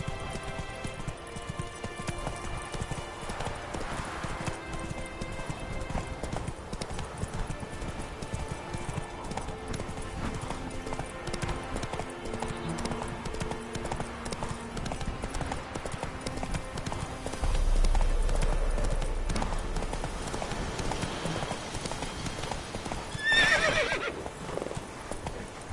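Horse hooves clip-clopping at a galloping pace in The Witcher 3, a steady rhythmic beat throughout with a whinny and a heavier thud near the end.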